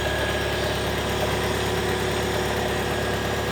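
A turbocharged Honda Civic EK hatch engine idles steadily and smoothly, a close, constant low hum with even vibration and no talk.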